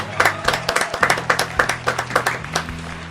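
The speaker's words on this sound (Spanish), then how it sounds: "Un fuerte aplauso, por favor." A few people on a music talk show clap for a guest from a band, giving a sparse run of distinct, rhythmic claps, close and fairly quiet, over a low background hum.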